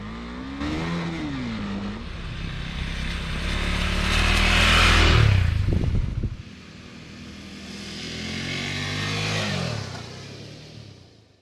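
Husqvarna Svartpilen 401 motorcycle, a 2022 model, ridden past on the road: the engine revs and climbs, shifts gear mid-run, then accelerates again, loud and fairly close, with no talk.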